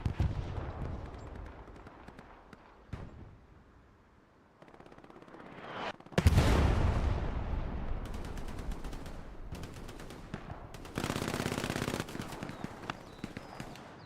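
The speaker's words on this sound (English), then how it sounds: "Down to some MP40 fire." Bursts of MP40 submachine gun fire in Hell Let Loose on the Kharkov map, loud rattling volleys crowding the second half over a low battlefield rumble, with quieter distant shots before.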